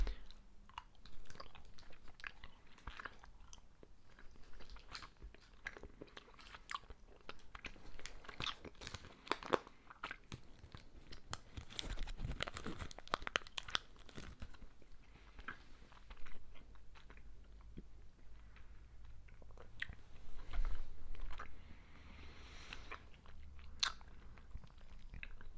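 Chewing strawberry-flavoured chewy candy up close, with steady crunchy, sticky bites and mouth sounds over about twenty-five seconds and no talking.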